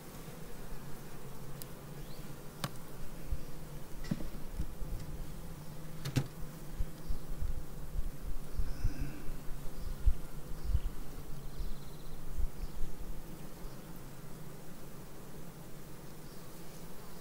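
Honeybees swarm around an opened hive during an inspection, a dense continuous buzzing hum close by and steady for the whole span, with occasional faint clicks and no talk.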